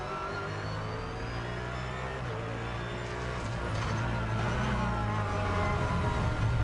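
A GT3 race car engine revs hard on the Circuito de Navarra during a Blancpain Endurance Series race, its pitch rising and falling through gear changes, loud and near, with a commentator's voice faintly underneath.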